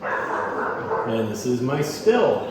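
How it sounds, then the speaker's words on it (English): A dog in a small home distillery barks and yips in short bursts beneath someone talking nearby. "Sorry the dog is noisy right now."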